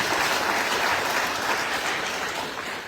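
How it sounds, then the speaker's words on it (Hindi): An audience at an education event with Bihar's education minister claps loudly and continuously, a dense wash of applause that fades slightly toward the end. "इनके लिए एक बार जोरदार तालियां"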